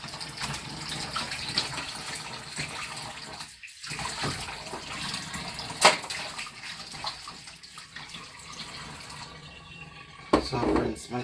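Turmeric root rinsed under a running tap: a steady close rush of flowing water with splashy variations and brief interruptions, fairly loud.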